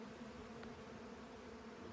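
A honey bee colony with plenty of young brood hums in a steady, low, continuous buzz at close range, faint and unbroken for the whole short stretch.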